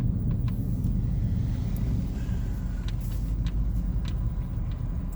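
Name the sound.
cars driving past in a drive-through lineup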